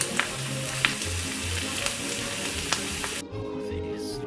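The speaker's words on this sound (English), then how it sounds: "Oh, the beautiful, sizzling, hot steaks." Grade A beef steaks sizzle on a hot grill, a loud, close, continuous crackling fry with occasional sharp pops, without talking, before cutting abruptly to a softer, duller sizzle near the end.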